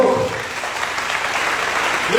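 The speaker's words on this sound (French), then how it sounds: "On peut applaudir." Applause from a church congregation during a sermon, a brief, dense burst of clapping that holds steady over a short stretch, with a voice heard faintly at the edges.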